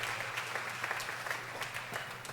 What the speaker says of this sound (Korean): Let's give them a warm round of applause again.